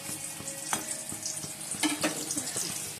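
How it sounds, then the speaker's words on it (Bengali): Pumpkin pieces fry in a pan of oil in a home kitchen, with a steady, fairly quiet sizzle broken by a few sharp crackles and pops. "কুমড়োটা ভেজে নিচ্ছি"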